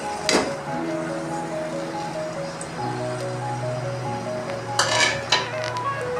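Onions frying in about a cup of oil, a soft continuous sizzle beneath steady tonal hums, with a couple of stirring clatters and scrapes of the pan.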